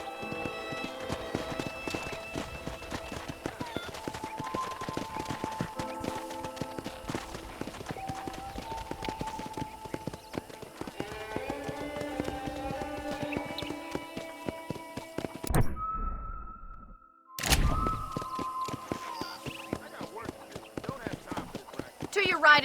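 Horse hooves clip-clop at a steady trot in the Red Dead Redemption video game, a brisk rhythmic patter under background music, with a short break in the middle before the hoofbeats resume.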